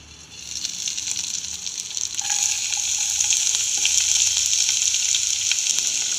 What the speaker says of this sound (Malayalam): നമ്മുടെ ഇഞ്ചിയും വെളുത്തുള്ളിയും നന്നായിട്ടൊന്ന് മുരിഞ്ഞ് വരാൻ വേണ്ടിയിട്ട് ഞാൻ ജസ്റ്റ് ഒന്ന് മൂടി വെച്ചിട്ടുണ്ട്.